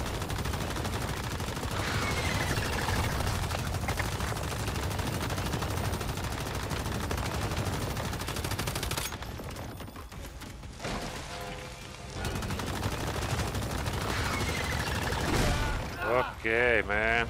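Rapid gunfire from a fast gunner build in the game Once Human, fighting the Arachsiam spider boss solo on hard difficulty. The loud, dense shooting runs almost nonstop, with brief dips partway through, and a voice talks over it.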